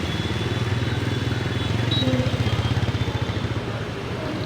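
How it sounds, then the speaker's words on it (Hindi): A motorcycle is ridden through town streets and leans into a right turn. The engine thrums steadily and close, with a rapid pulsing beat and a slight rise in the middle, and no voices. "ये हमारी बाइक सीधे हाथ की तरफ को मोड़ने लगी।"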